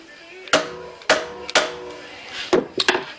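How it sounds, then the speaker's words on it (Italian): Hammer taps a lathe drive center into a wooden workpiece during setup for woodturning, giving several sharp, close knocks spaced irregularly over a few seconds, loud against a quiet room. "diamo un colpetto col martello"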